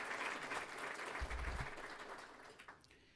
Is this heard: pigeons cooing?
no